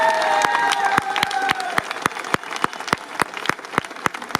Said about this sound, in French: On peut vous applaudir parce que c'est génial.